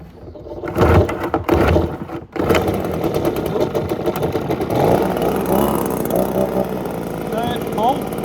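A new small engine on a wood chipper is pull-started with the choke on for its first run. It catches after a couple of cord pulls and settles into a steady buzzing drone, loud and close, as someone talks over it.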